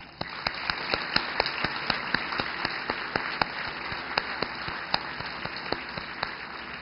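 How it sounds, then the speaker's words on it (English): Congregation clapping at a church centennial anniversary service, a steady run of sharp, evenly spaced claps sustained over a dense wash of applause. "round of applause"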